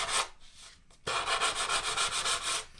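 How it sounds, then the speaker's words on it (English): Sanding along the epoxy seam on a surfboard rail, close, steady back-and-forth rubbing strokes in a brisk rhythm after a short pause near the start. "This here I'm going to sand to 90."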